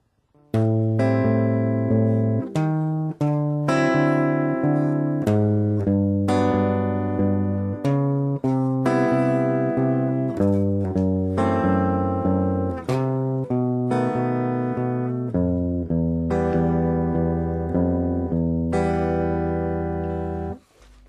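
A plucked bass plays a steady walking line, one note per beat, moving stepwise through changing chords with no other instruments or voices.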